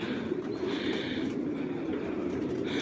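Breeding male pigeons in a loft in Osmaniye coo softly and continuously, a faint low murmur of overlapping calls with no talk.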